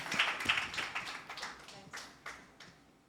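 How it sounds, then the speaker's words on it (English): An audience claps at a launch event, a spread of scattered hand claps that is strongest at first and thins to a few isolated claps toward the end. "we need a big round of applause for Nakita"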